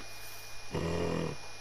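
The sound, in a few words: animal growling in video game theHunter Call of the Wild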